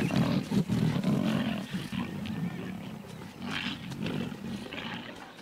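Several male lions roar in the wild at Lake Nakuru, deep rumbling calls that run loud and continuous, with grunting pulses and layered overlapping voices throughout.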